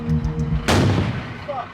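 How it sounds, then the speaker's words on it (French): During French Foreign Legion combat in Mali, a single sharp, loud explosion bursts out after a low rumble, then decays into a rolling echo. "une explosion retentit."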